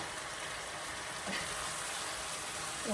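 Pumpkin bhaji sizzling and frying in a pan, a steady close broadband hiss with a faint stir or scrape partway through, no voices.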